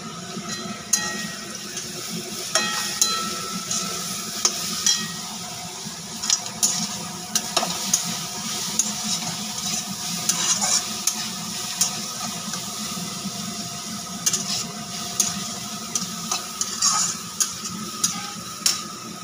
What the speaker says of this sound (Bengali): অল্প তেল দিয়ে মাশরুমটা এবার ভালো করে নেড়ে নিতে হবে